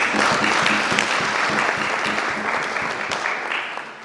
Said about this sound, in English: And I think for them to deserve a round of applause.